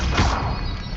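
A Stupefy spell cast in a Hogwarts game, a loud, close magical whoosh with a sharp whip-like crack at the onset that trails off within about a second.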